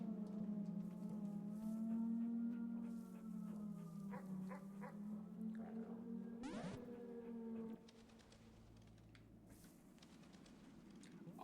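A dog in the video game Animal Well whimpers and yips over a steady droning game music bed, with a sharp burst midway, then quieter ambience; no talking.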